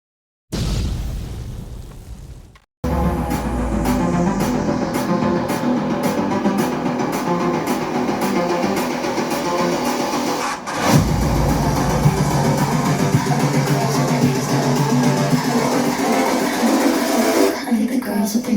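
Music played through a Le Audio Cattle Pro amplifier driving a Sony 12-inch subwoofer, loud and continuous with heavy bass, a brief cutout near the start, then steady playback to the end.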